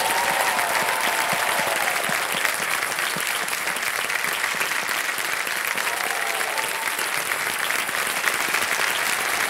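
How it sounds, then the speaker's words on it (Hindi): A studio audience on a TV quiz show applauds a contestant's win, thick sustained clapping that stays loud and uniform throughout, with faint cheers mixed in. "तालियां बज जाए इनके लिए"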